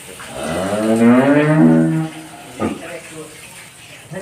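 A Holstein Friesian dairy cow on a dairy farm gives one long, loud, close moo lasting about two seconds, followed by a brief shorter sound, with faint background noise.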